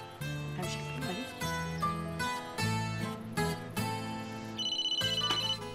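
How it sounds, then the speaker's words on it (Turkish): A phone's ringtone plays a repeating melodic tune from start to finish, clear and alone, while a call is being placed. "Ben Fırat'ı arayayım hemen."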